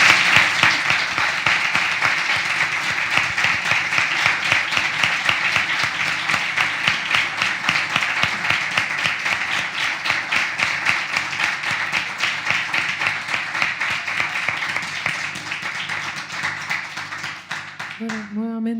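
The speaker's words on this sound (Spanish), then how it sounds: "Un aplauso entonces a Jessica y a Inga" Sustained applause from an audience at a book launch, honouring Jessica and Inga. The clapping is dense and steady for well over fifteen seconds before a voice speaks at the very end.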